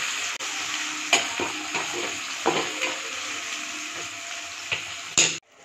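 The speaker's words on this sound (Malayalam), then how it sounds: "ഇതിലോട്ട് തക്കാളി ചേർത്ത് കൊടുക്കാം. അതൊന്നും നന്നായിട്ട് ഇറക്കി കൊടുക്കാം." Onions and tomatoes sauté in a pan for fish curry with a steady close sizzle, broken by several light clacks of a spoon stirring, ending in a clatter.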